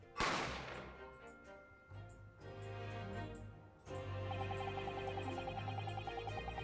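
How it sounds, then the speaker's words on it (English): A single sharp, loud gunshot cracks out at the very start in The Great Ace Attorney Chronicles video game, then fades into steady in-game background music with no talking. "I didn't have any time to think about where the sound of the gunshot had come from"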